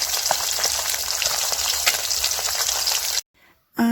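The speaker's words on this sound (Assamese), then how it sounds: "এইফালে মই মাছ ফ্ৰাই কৰি আছোঁ লোকেল মাছ হয়" Local fish frying in hot oil in a pan: a loud, close, continuous crackling sizzle that cuts off abruptly near the end, then returns briefly.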